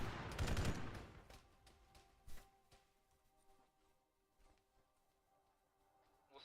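Gunfire in the Arma 3 military shooter, a loud initial burst followed by scattered, fainter distant shots and pops against a quiet background.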